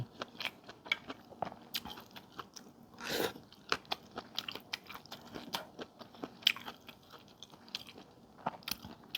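Crunchy bites and chewing of black instant noodles with a heap of vegetables, a steady run of sharp, close crackling crunches with no talk.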